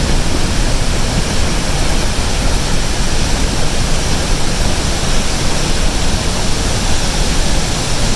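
Niagara Falls roars from just behind the waterfall as a loud, unbroken wall of rushing water that fills the whole stretch, with no voices audible.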